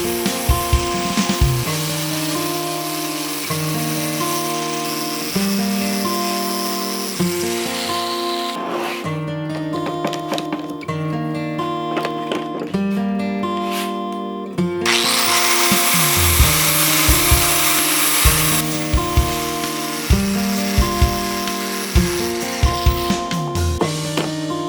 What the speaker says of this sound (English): I'm going to just be using a sanding disc on the grinder